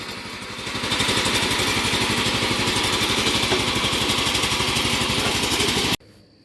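A 1967 Sears Suburban garden tractor engine runs steadily at a fast, even putter, loud and close, then cuts off abruptly near the end, with no voices.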